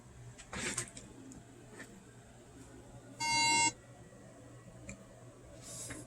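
A single short, buzzy electronic beep from a MacBook Air with a power fault sounds once midway, clear against a quiet background hum.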